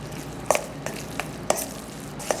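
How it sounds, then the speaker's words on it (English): Scrambled potatoes for Trinidad aloo choka are mixed in a pot, giving a few short scraping spoon strokes in an uneven rhythm over a faint sizzle, close and fairly quiet. "very carefully you're going to mix it all together"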